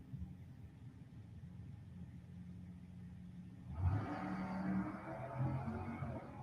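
A Chevy pickup truck launches from the line at a drag race at Gainesville Raceway, its engine swelling from a distant idle into a rising rumble as it runs down the track, faint and far off.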